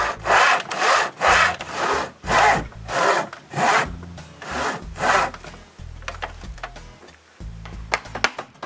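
A hand saw cuts through a wooden tenon during work on a chalet shower, with a series of loud, rhythmic back-and-forth strokes close by. They give way to lighter, choppier strokes near the end.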